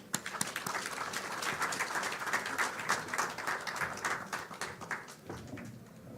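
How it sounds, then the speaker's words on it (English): A conference audience in a large tent at a development bank's annual meetings in Kenya gives a round of applause: dense, steady clapping at moderate volume for several seconds that thins out toward the end. "Please, let's give a warm round of applause."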